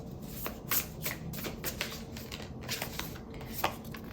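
Tarot cards being shuffled and drawn: soft, dry riffling and flicking of cards in quick irregular bursts, close and quiet, with no talk over them.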